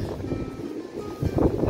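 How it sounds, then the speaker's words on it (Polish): Strong wind rumbles and buffets the microphone in low gusts for a couple of seconds, surging louder near the end. "Zobacz taki wiatr."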